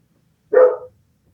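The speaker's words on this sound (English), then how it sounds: "Dog barking. We have that all the time." A dog gives one sharp, loud bark up close, with silence before and after.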